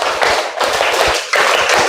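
Schoolchildren in an Islamic primary classroom clap together in a repeated three-beat pattern, a dense, loud flurry of many hands striking almost continuously, close by and without speech.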